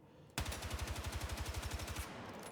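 Sustained full-auto burst from a TR7 assault rifle in the Battlefield 6 video game, about twenty rapid, evenly spaced shots lasting nearly two seconds, loud and close, then cutting off abruptly.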